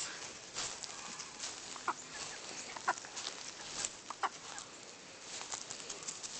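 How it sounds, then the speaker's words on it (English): A chicken on a farm with other fowl gives several short clucks, fairly faint and scattered over a low outdoor background. "Look at that crazy ass chicken."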